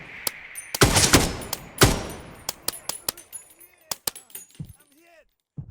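Gunfire in the tactical shooter game Dagger Di rings out in sharp, loud bursts, several rapid rounds followed by scattered single shots and a fading tail, with some breaking and impact debris.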